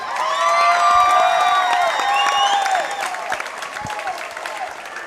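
A crowd at a Muay Thai event applauds and cheers for two fighters after a bout, with a dense wash of clapping and whoops that stays loud, then eases slightly toward the end.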